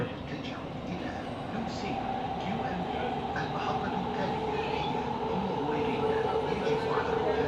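Steady rumbling hum of a moving Doha Metro train in Qatar heard from inside the carriage, a constant mechanical drone with no clear voices.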